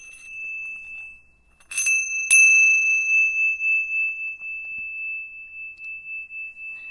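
A bright bell rings with a sharp ding, then a second strike, leaving a long sustained tone that slowly fades in a quiet room.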